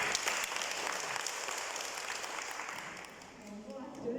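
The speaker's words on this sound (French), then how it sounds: "On applaudit Priscilla." Applause from a gathered audience at a women's meeting in Mauritius, moderately faint and steady before tapering off, with some murmured talk mixed in.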